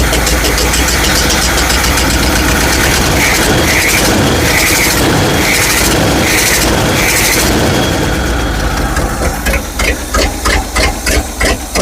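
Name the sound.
old truck engine running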